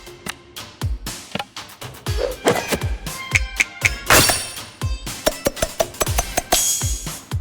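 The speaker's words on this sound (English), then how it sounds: "Put dried red chilies, curry leaves and salt into the mortar. Grind it up with the pestle." Grinding chilies, curry leaves and salt with a mortar and pestle in a video game: a rapid series of hard thunks and knocking strikes, close and loud, with brief crunchy clatters between.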